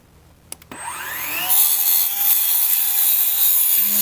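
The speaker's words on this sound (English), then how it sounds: "I love cutting aluminum with a carbide blade because it's quick" A carbide-tooth woodworking saw blade spins up and bites into aluminum, a sharp whine rising to a loud, steady screeching cut held close for several seconds.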